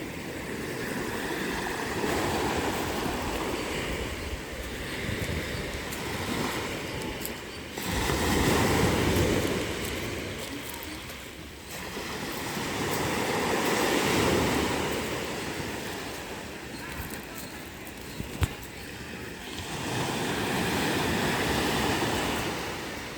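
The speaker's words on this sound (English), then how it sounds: "You have reached 2 minutes of beautiful wave sound effects or something." Ocean waves wash onto a beach in slow surges, each swell building into a loud, broad rush of surf before fading back, repeating about every six seconds with steady wind-like noise between.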